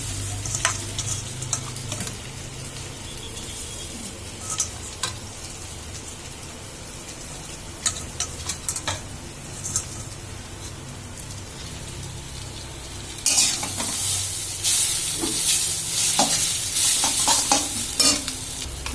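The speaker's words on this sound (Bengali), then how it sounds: "এইভাবে নেড়ে নেড়ে ভাজতে হবে" Egg chow mein stir-fried in a pan, close crackling sizzle with frequent scraping and tapping of the stirring utensil, growing louder and busier in the last few seconds, with no talk.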